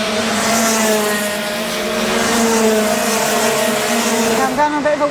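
Racing kart engine droning steadily and loudly on a track as another kart overtakes, a continuous high whine that wavers slightly in pitch, with a voice speaking over it near the end.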